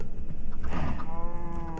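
A cow in the game Minecraft moos once in a drawn-out low call, rising out of a steady background hum; no talking.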